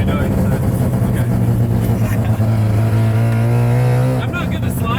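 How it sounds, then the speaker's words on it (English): A car engine revs high and steady, its pitch climbing and holding, then abruptly drops as the throttle lifts; a voice talks faintly over it. "you can take the revs way higher than what you're doing"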